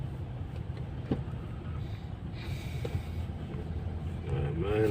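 Dense road traffic drones as a continuous rumble of car engines, with occasional louder passing vehicles and brief voices in the mix.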